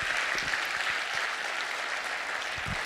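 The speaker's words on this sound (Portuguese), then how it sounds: "aplauda ao Senhor" A church congregation applauding during a service, a continuous wash of clapping with occasional heavier low thumps, fairly full and even.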